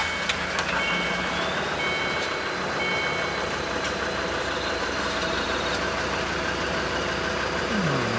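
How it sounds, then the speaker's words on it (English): A Land Rover Discovery 2 TD5 diesel engine, which has a leaking fuel return line, runs with a steady close rumble and a faint high whine throughout. No voices are heard. "I'll leave you there while I start the car"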